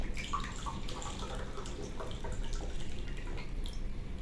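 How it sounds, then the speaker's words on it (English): Water poured into tumblers for a walking water experiment, a steady soft splashing and trickling stream that runs continuously at low to moderate level throughout, with no voices. "First, we pour water."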